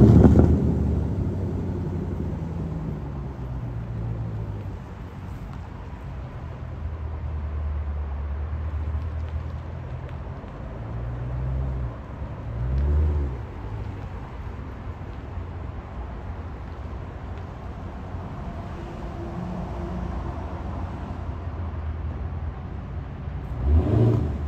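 A Dodge Challenger SRT 392 accelerating through traffic, heard from inside as a deep engine rumble that swells and falls through gear changes, with surges of revving under steady road noise.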